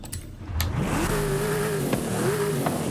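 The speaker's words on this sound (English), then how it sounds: "this is the Mercedes 500E, and as you can tell from driving it, it actually sounds really good." A Mercedes 500E V8 engine revs in the Forza Horizon 5 racing game, a loud, steady, close engine drone that climbs in pitch, eases off and rises again.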